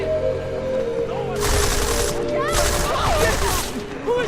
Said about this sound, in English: Oh god, straight into a gunfight.